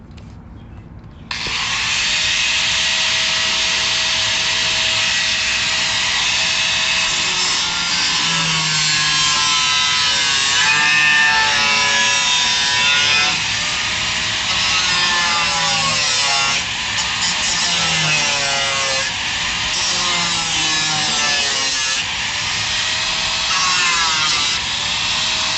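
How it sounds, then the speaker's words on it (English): A cut-off wheel grinds through a metal tab on the fender of an OBS Ford F250 pickup, a continuous harsh whine with shifting pitch that runs for over twenty seconds after starting abruptly. "I'm thinking our best bet is to take a cut-off wheel and cut this tab off right from the fender itself"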